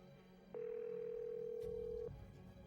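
A steady telephone tone sounds for about a second and a half over a quiet, faintly noisy phone line during a 911 operator's call back, then cuts off.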